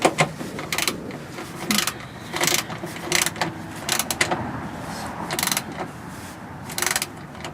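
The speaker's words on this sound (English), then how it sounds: "So I'm starting to get a little resistance here, so I'm going to back off of it and tighten the one underneath." Ratchet wrench tightening step rail bolts on a 2013 Nissan Xterra, a string of bursts of quick clicking strokes with short pauses between, close and fairly loud.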